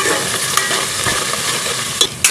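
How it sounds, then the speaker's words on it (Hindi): Garlic hits hot oil among lightly browned onions, giving a steady close frying sizzle with stirring scrapes and a few sharper crackles near the end. "1 टीस्पून भर के लहसुन ऐड कर देंगे।"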